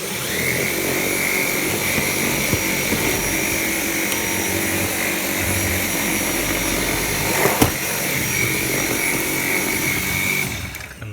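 A Dyson V7 Motorhead cordless vacuum runs on max setting with a loud, steady high-pitched motor whine and rushing airflow held throughout, with a brief bump partway and a slight change just before the end.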